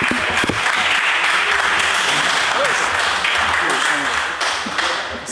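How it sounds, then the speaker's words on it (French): An audience at a quiz tournament semi-final applauds loudly and steadily the whole time. The dense clapping fades slightly toward the end. "ça s'applaudit s'il vous plaît"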